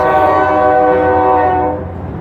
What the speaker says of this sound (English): It's a noisy train.